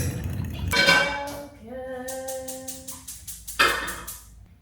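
A pan being set down on a stove for cooking eggs, a few sharp metallic clanks with a brief ringing tone between them, close and fairly loud with no voice.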